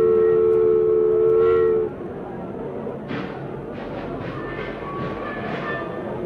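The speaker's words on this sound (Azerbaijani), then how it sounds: "Bir dakikadan sonra qatar tərpənir." A steam train starting to move as a radio drama sound effect. A sustained whistle tone sounds first, then gives way to rhythmic chuffing and rumbling rail noise that stays fairly loud.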